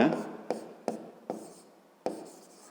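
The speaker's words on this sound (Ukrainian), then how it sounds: "Ну що ж, записуємо тоді, друга дія." A pen scratches across paper while a fifth-grade math solution is written out by hand, in several short strokes with pauses between them, close and fairly quiet.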